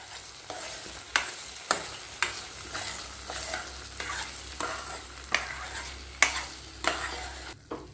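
A spoon repeatedly scrapes and stirs thick gooseberry thokku in a pan over a low bubbling sizzle, giving roughly a dozen rhythmic strokes close by with no talking.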